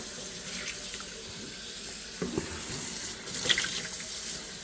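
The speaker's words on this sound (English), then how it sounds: "she's gonna fill that up with a rag and clean her bowl out" Water runs steadily from a kitchen sink faucet as a bowl is rinsed, with a few brief clinks and splashes partway through, close and moderately loud.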